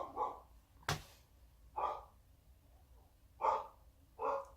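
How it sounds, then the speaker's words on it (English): A pet dog barks in short, separate bursts, about four sharp woofs spread unevenly with pauses between, moderately close indoors with no talk. "my dog is freaking out right now"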